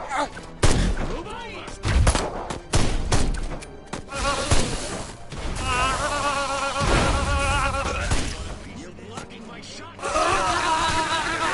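Gunfire and explosive thuds from the alien invasion video game Destroy All Humans!, with dense bursts of shots and impacts mixed under voices and music, loud throughout and sharpening again near the end.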